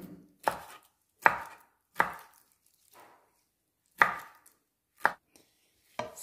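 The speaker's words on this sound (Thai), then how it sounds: "หั่นเล็กๆแบบนี้ค่ะ" Single knife chops through fish strike a cutting board one at a time, crisp and close, at a slow uneven pace with short gaps between them.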